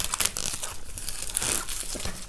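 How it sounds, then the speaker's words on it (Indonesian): Plastic shrink-wrap being torn and peeled off a sealed architecture book, with close crinkling and tearing that keeps up steadily and fairly loud for about two seconds, and no talk over it. "Ini kebetulan bukunya masih segel ya, belum saya buka. Mungkin saya buka ya, saya unboxing ya."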